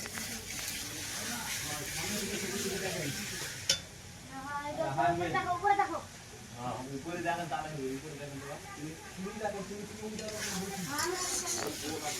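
Goat meat scraps cooking in a pan, with a continuous sizzle and occasional stirring scrapes close by, while a person talks over much of it.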